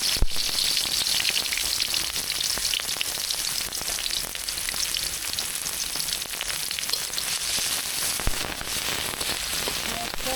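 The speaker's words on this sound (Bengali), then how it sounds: "এবার দিয়ে দেবে পেঁয়াজ কুচি" Chopped onions fry in hot oil in a wok, giving a steady, dense sizzle that stays loud and even throughout, with occasional faint clicks of stirring and no talk.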